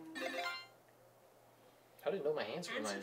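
Telephone ringtone from the Nintendo Switch game 1-2-Switch sounds as a short, bright tonal burst, followed by a pause and then a person speaking over further tonal sounds.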